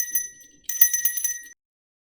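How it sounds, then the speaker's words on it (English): A small bell hanging at the bottom of a beaded ornament jingles in two quick bursts, bright and close, then stops into silence. "It's finished with a bell at the bottom."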